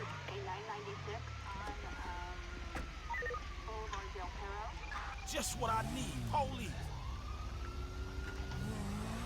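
Police car siren in Grand Theft Auto 5, a wailing tone that sweeps up and down over engine and traffic noise, with voices talking at points.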